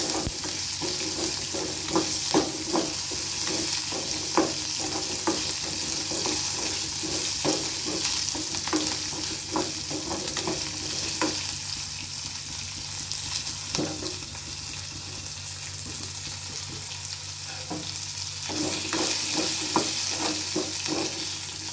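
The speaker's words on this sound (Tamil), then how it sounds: "நல்லா வெங்காயம் நல்லா வதங்கிருச்சு." Onions fry in oil for a mutton curry, hissing with a constant close sizzle while a utensil scrapes and stirs them in repeated strokes.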